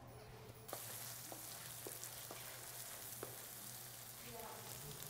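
Curry paste sears in hot shallot oil for a Thai red curry, giving a steady, close, bright sizzle with a few light clicks and scrapes from the pan throughout.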